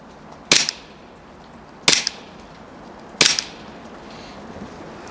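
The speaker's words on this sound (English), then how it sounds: "first I just want to show you the recoil and the sound on it" Three sharp, snappy Glock 17 airsoft pistol shots fire at even intervals about a second apart, each a quick crack with a short tail, close by with a quiet background.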